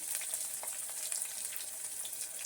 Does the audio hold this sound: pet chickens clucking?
no